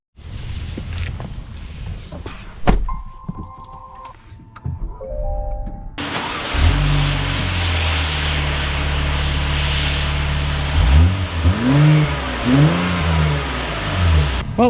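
A 2025 Acura MDX Type S in the cabin: clicks and electronic chimes, then the engine starts with a steady hum and revs in rising surges as the car drives off.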